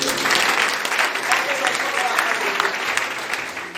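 A church congregation claps steadily and loudly, dense applause filling the room without a break from start to end.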